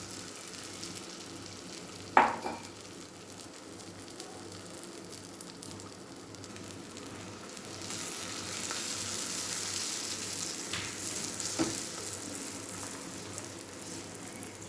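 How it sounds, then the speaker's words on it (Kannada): Aloo and egg batter hits an oiled hot tawa with a sharp splash, then a steady broadband sizzle that swells louder in the second half, punctuated by a few small clicks of a spatula. "ಈಗ ಬ್ಯಾಟರ್ ಇದ್ರ ಮೇಲೆ ಹಾಕ್ಕೊಳ್ಳೋಣ."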